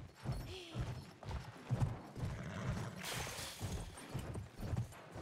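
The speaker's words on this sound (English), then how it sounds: "Man, this horse can run." A horse gallops in the video game Battlefield 1, its hooves pounding in a fast, steady clip-clop rhythm close by, with a burst of gear rattle and wind partway through and no talk.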